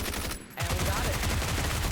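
Video game gunfire, a dense rapid burst of shots that cuts out for a moment and then resumes, loud and continuous.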